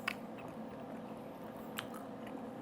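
Biting into and chewing a piece of cooked noodle from a cacio e pepe pasta, faint soft squishy chews and a few light crunchy bites, close and quiet, with no talking.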